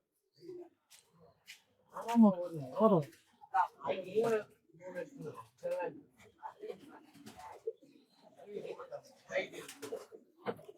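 A racing pigeon at a loft gives low, rolling coos close by, mixed with someone talking throughout.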